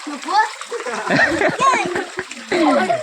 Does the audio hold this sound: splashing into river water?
yes